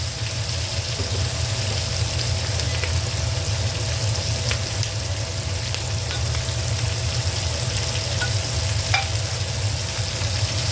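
Crabs and shrimp fry in a pan, a loud, even sizzle running steadily throughout, with a low rumble underneath and faint scrapes as they are stirred.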